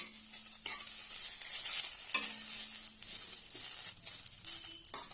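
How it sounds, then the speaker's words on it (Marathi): Mint leaves dry-roasting in a pan for pudina chutney, with a gentle hiss and a few scraping stirs and spatula knocks at moderate level, no voices. "छानपैकी आपला याचा ओलसरपणा निघून जावा अशा पद्धतीने आपण हे भाजून घेऊया"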